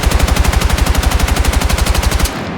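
Rapid automatic gunfire from a weapon on a shooting range in Battlefield 6, a steady stream of loud, evenly spaced shots that stops abruptly near the end.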